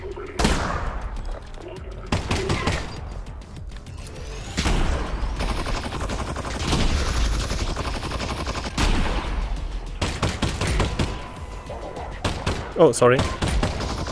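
Enemy gunfire in Half-Life: Alyx comes through a wall in repeated loud automatic bursts and single cracks, with pauses between volleys and a brief spoken apology from a player.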